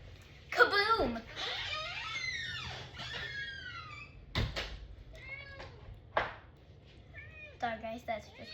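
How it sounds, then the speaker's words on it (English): A house cat meows repeatedly near the microphone, a string of rising and falling cries with short pauses between them, with a soft knock in the middle and a voice speaking quietly. "Sorry guys, that's just my cat."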